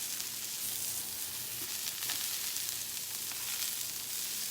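Fresh seafood sizzling in a hot pan as it browns, a steady, soft hiss of frying with faint crackles, close and without voices.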